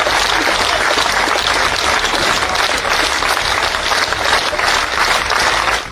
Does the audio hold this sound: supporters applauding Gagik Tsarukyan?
yes